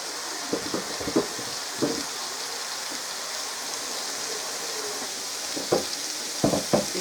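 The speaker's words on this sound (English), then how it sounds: "I'm just going to brown them all the way through." Bratwurst browns in a pan with a soft, continuous sizzle, broken now and then by a few sharp clicks and pops.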